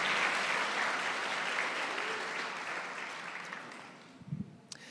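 A church congregation at a 92nd anniversary service applauds loudly and steadily, the dense clapping slowly fading over a few seconds before a brief low thump at the end.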